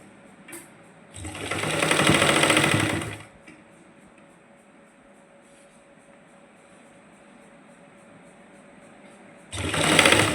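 A sewing machine stitches lace onto a salwar in two bursts, a loud rapid whirring run of about two seconds, a long quiet pause, then another run starting at the very end.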